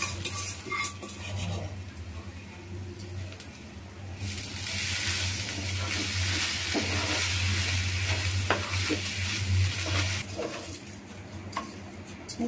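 Soaked polao rice for a beef biryani frying in a pan as a utensil stirs it, giving a steady loud sizzle with scraping and clinks that grows stronger midway, no talking.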